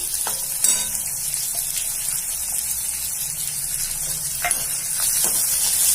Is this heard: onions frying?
yes